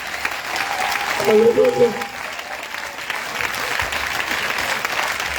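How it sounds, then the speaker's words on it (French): A church congregation applauds and cheers in a burst that swells and fades, while a voice sings out briefly over the clapping. "Maintenant, regarde, acclamation pour toi-même."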